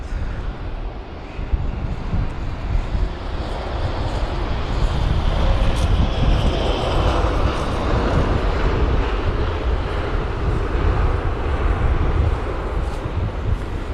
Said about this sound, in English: So there's the Aer Lingus jet. That is the A320-200.